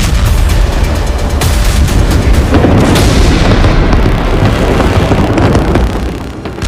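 Israeli airstrikes hitting southern Lebanon make a loud, continuous blasting roar with deep rumbling, dense and sustained before easing slightly near the end.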